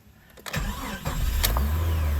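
A still-warm Jeep Cherokee XJ with the 4.0 engine cranks briefly, then catches and settles into a steady, loud idle up close.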